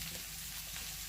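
Julienned carrots and courgettes stir-fry in olive oil in a wok, giving a brief, steady, close sizzle with soft stirring scrapes.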